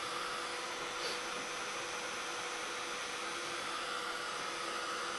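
Hair dryer blowing steadily to dry ink on a mixed media art page, a constant close airy whoosh with no breaks or talk.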